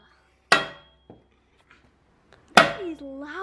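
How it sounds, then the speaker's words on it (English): Two sharp metallic hammer strikes on a metal oil filter of a Subaru EJ207 engine, about two seconds apart, loud and close, with a faint tap between them and a voice starting after the second hit. "I'm going to pick up this hammer."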